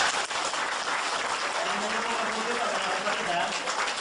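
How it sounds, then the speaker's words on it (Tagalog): Audience applause fills a talk or presentation, a dense, steady wash of many hands clapping at once, loud and sustained throughout with a little talk mixed in. "Palakpak naman yan."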